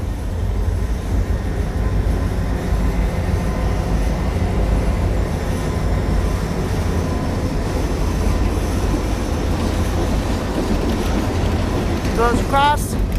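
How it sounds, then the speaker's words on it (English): A heavy train hauled by several locomotives rumbles steadily past, a continuous low roar with rail clatter, and a brief metallic squeal near the end. "how many locomotives does it take to pull a train?"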